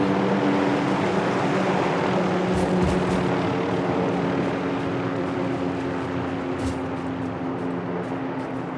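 Military helicopter in a combat video game setting dropping off troops, a steady droning engine and rotor hum with a constant low tone, continuous and moderately loud throughout, with a few faint clicks and no speech.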